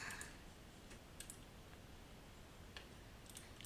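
Sparse, quiet clicks of typing on a computer keyboard in a quiet room, a few isolated keystrokes and short bursts spread across the moment with no talk.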